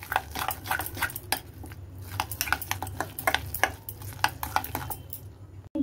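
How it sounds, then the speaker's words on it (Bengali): Gram flour batter being stirred in a bowl, with repeated sharp clinks and scrapes of a utensil against the vessel in an irregular, busy rhythm, close and fairly loud, with no talk. "এবার ভালো করে মিশিয়ে নিতে হবে, বেসনটাও যেন ভালো করে মিশে যায়।"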